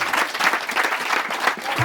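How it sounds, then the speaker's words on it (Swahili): A church congregation claps hands together, dense and continuous for a couple of seconds, fairly loud and close, with faint voices mixed in. "Naona mkono piga makofi."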